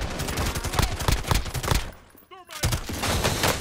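Rapid gunfire in the video game Warzone, dense bursts of shots crackling loudly and continuously, briefly dropping away before resuming, with voices talking underneath.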